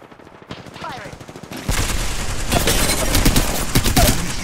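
Sustained rapid gunfire in the battle royale Apex Legends, rattling bursts that start sparse and quiet, then erupt into loud, dense automatic fire.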